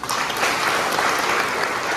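A crowd at a village assembly about a bridge gives steady, dense applause for the young organisers, continuous and fairly close throughout.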